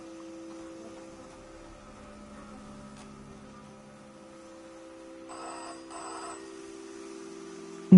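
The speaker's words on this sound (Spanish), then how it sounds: "Un teléfono." A telephone rings in the video game Season: A Letter to the Future, a steady electronic tone with a short warbling burst over faint background hum, ending in a sudden loud click.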